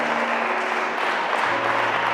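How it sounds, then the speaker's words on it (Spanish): Sustained applause from a church congregation, dense and steady clapping filling the space for a couple of seconds. "Dale un aplauso fuerte otra vez al Señor"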